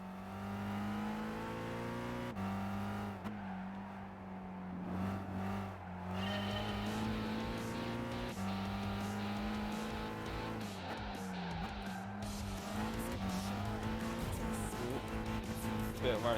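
A rallycross race car engine in the video game Gran Turismo 5 drones loud and steady throughout, with rising and falling revs, gear shifts and occasional tire squeal.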